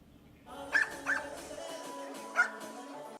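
Dogs at a doggy Halloween trick-or-treat party in Coral Gables, South Florida, give a few short yips and whimpers over a steady crowd murmur, with three sharper peaks standing out.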